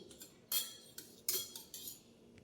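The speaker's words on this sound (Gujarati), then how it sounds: "ચમચી વડે પહેલાં હલાવી નાખશું।" A metal spoon clinks against a glass or cup while stirring fenugreek seeds soaked overnight in water, giving four or five short, bright taps spaced irregularly over a quiet background.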